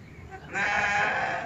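Goats being kept and fed on fermented banana stem bleat nearby, a single long loud wavering cry rising in the second half after quieter background noise.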